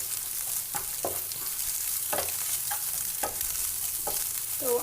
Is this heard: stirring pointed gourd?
yes